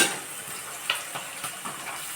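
Field beans stirred in a hot pan with onion, green chili and curry leaves for upma, a steady sizzle under repeated scraping strokes of a spoon, close and moderately loud, no voices.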